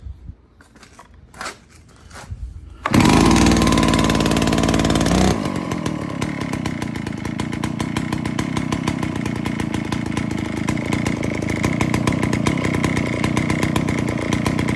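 A free Stihl chainsaw engine starts after a few quiet pulls and runs loudly with the throttle locked open, holding a steady high-revving snarl for over ten seconds.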